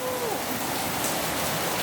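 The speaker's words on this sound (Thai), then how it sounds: "โอ้ เด้อฝนตกเด้อไหนเด้อ ฝนตกเด" Evening rain falls steadily in Laos, making a constant dense hiss of drops on surfaces that is close and moderately loud throughout, with no gaps.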